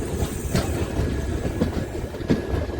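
Jhelum Express train running at night near Vijaypur Jammu, heard from inside with a loud continuous rumble and periodic clickety-clack beats from the wheels over rail joints.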